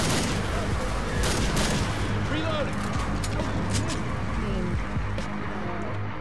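Shotgun blasts and gunfire boom through a chaotic Left 4 Dead 2 fight with a 12-gauge, several sharp reports in quick succession over constant rumbling game noise, with voices talking throughout.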